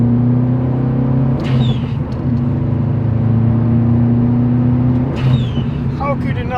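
Modified 2011 Subaru WRX STI engine holding a loud, steady rumbling drone for several seconds, with a couple of brief revving swells over it and no talk.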